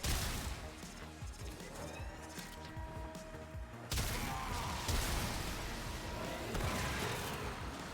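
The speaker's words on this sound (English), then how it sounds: "Explode! They exploded." Enemies blowing up in Warframe: a dense, continuous wash of blasts and crashing debris, loud and layered, with a sharper burst midway.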